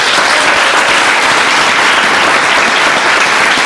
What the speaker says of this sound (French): Je voulais qu'on l'applaudisse très très fort encore.